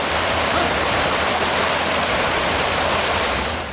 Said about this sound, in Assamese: এইদরে ফেনে ফুটুকানে বাহি উঠিছে জোনাই নদী।